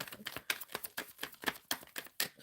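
A deck of tarot cards is shuffled close by, giving a quick series of crisp, papery riffling snaps in an irregular rhythm, with no talking.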